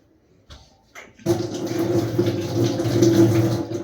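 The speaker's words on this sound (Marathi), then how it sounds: "तो धुवून घेतला अस्मिताने." A tomato rinsed under a running kitchen tap: a couple of brief splashes, then a steady, fairly loud rush of water pouring continuously to the end.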